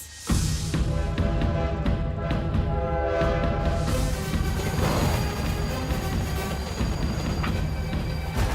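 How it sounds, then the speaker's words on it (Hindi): Train arriving in a film scene, a sustained horn blaring with several harmonic tones over continuous rumbling rail noise, loud and close throughout with no talk. "ट्रेन आ गई सर जी।"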